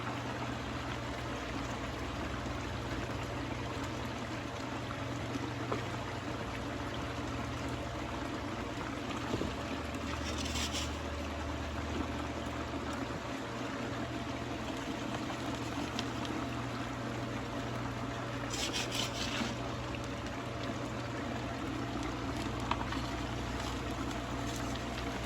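Water pours and rushes steadily through a four-stack gold cube sluice, a continuous broadband wash at close range with no voices, holding an even level from start to finish.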